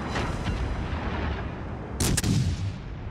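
Gun salvos from the American light cruiser USS Witherer in World of Warships, a pair of sharp, loud blasts close together over steady low battle rumble and background noise.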